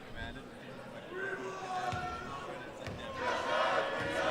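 Crowd at a women's university volleyball match cheering and chanting in an indoor hall, a rising roar of voices that swells louder toward the end, with a commentator talking over it.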